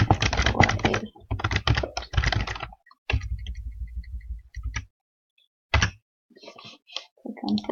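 Text is typed on a computer keyboard in close, clattering bursts of rapid keystrokes separated by short pauses, with a few isolated taps and a faint voice near the end.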